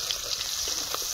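Bay leaves and dried chillies hit hot oil left from frying chicken, giving a steady, close sizzling hiss that holds at an even level throughout.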